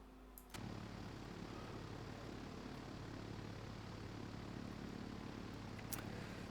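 A Britten-Norman Islander BN-2B twin-propeller aircraft at Southampton aerodrome drones steadily and loudly from a brief quiet start, its engine and propeller roar continuous and close with no talk over it.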